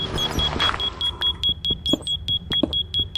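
Fire alarm beeping in steady repeated short electronic tones, a high pitched pitido sounding again and again over low background noise with occasional thumps.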